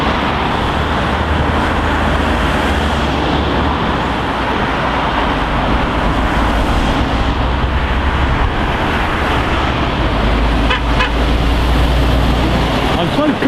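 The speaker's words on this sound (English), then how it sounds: "traffic's sort of cleared now, it's slow into Newark" Road traffic rolls slowly into Newark-on-Trent, with cars and trucks making a steady, loud, close roar that continues without a break.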